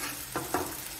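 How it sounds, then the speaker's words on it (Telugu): Onions fry with rock salt in a pan for a mutton and cashew curry, a soft continuous sizzle broken by two short clinks of stirring, close by. "ఇదిగోండి ఆనియన్స్ వేగిపోయినాయండి."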